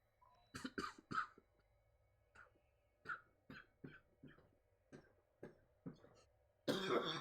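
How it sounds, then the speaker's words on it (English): A person coughs repeatedly, roughly a dozen separate hacking coughs spaced about half a second apart, close and fairly loud, with no talking. "it was progressively getting worse as I was coughing."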